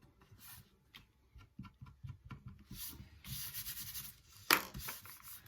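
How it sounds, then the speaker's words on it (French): An eraser rubs out pencil marks on paper for a scrapbook album page, making soft, quick scrubbing strokes in uneven bursts, faint and close, with a brief sharp knock near the end. "Je vais venir gommer ici les traces du crayon."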